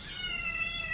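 A cat meows in a drawn-out, wavering cry, close and fairly quiet, a single plaintive call from a mother cat near her kitten.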